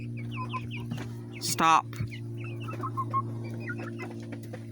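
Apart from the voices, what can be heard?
chickens clucking, hens and rooster with chicks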